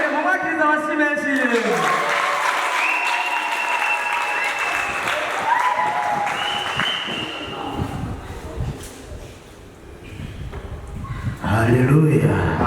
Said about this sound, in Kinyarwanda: Mumwakiriza amashyi menshi.